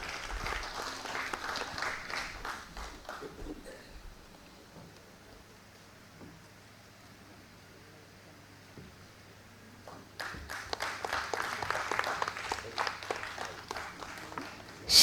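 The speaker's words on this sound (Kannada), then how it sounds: "ಹೃತ್ಪೂರ್ವಕವಾದಂತಹ ಧನ್ಯವಾದಗಳನ್ನು ತಿಳಿಸ್ತೇವೆ ತಮ್ಮೆಲ್ಲರ ಚಪ್ಪಾಳೆಯ ಮೂಲಕ" Audience applause at a Bhasa and Shakespeare drama festival and seminar, a dense spell of clapping that fades into a quiet stretch and then swells again loudly near the end.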